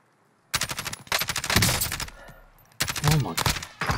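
Call of Duty Modern Warfare gunfire comes in loud rapid automatic bursts, three separate volleys with short gaps between them, and a voice is heard briefly.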